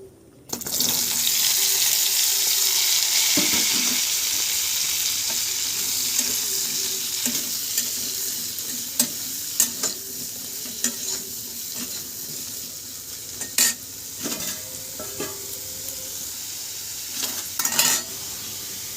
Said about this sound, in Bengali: এই ঝিঙেটা তেলের মধ্যে দিয়ে দেব।